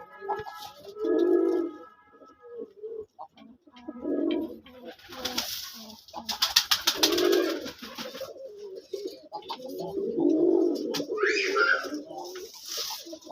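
Red Raj Golla pigeons coo repeatedly at close range, their low throaty calls coming in rounded bursts with short pauses between them. A few splashy, water-like sounds run underneath.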